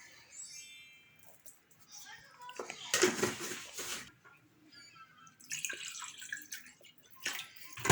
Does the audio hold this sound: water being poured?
yes